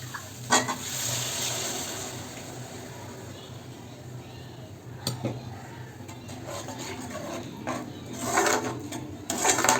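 Curry with mutton stock sizzles steadily in a hot pan while a utensil scrapes and stirs through it, with occasional sharper clinks against the metal.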